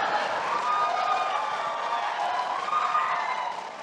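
An audience at a 2016 presidential election debate cheers and claps in a sustained, fairly loud wash of applause and voices that holds steady, then eases slightly at the end.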